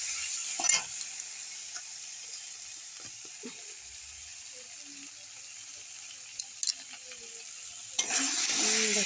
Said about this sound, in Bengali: এবার ভালো করে এগুলো এখন নাড়তে থাকবো